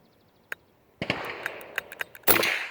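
A Squires Bingham model 16 .22 LR rifle fires, giving a few sharp, close cracks spread over a couple of seconds. Each crack is followed by a short burst of noise, and the last one is the loudest.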